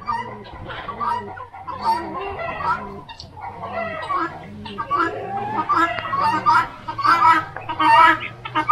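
A crowd of chickens and turkeys clucks and chatters nearby in Romania, overlapping calls rising and falling, with people talking over the birds.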